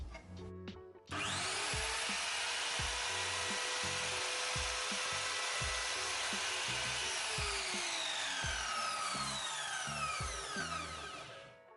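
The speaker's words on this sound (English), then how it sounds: "So now we can listen to the machine for the first time." A Task 850W compound mitre saw with a 190mm blade starts up after a couple of clicks. It whines at a loud, steady pitch that slowly drops as the blade spins down near the end, with no talking.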